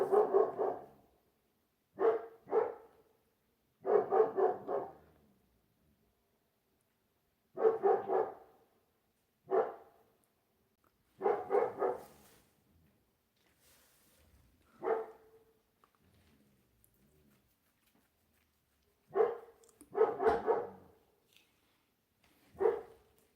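A dog barks in scattered bursts, single and double woofs with long pauses between, sounding somewhat distant.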